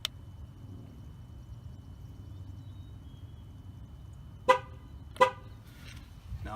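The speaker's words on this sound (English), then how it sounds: "Now when this one's done, it's going to honk twice." A GM car's horn gives two short, sharp honks a moment apart after tire pressure sensor programming, heard over a quiet garage-like background hum.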